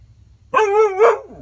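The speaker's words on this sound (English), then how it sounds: "Barks like crazy." A single dog bark, close and loud, breaking sharply out of near silence into a short two-part yelp before trailing off.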